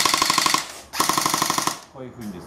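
A JG AK74 (KTR-08) electric airsoft gun fires two full-auto bursts with blowback, its cocking handle cycling with each shot, a rapid loud mechanical clatter in two strings separated by a brief pause, followed by a short voice.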